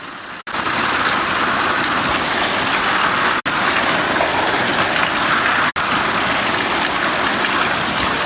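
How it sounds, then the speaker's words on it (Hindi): Heavy rain in Jammu and Kashmir pours steadily and loudly, a dense, unbroken hiss of water on surfaces with no voices, interrupted only by three very brief cuts. "जम्मू कश्मीर में बारिश अब देखने को मिल रही है"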